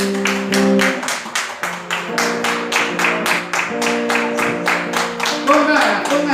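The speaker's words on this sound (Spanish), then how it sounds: "Den un aplauso al Señor Jesús." A church congregation claps in rhythmic, steady beats during a Sunday service, loud and close, with sustained musical tones underneath and voices present.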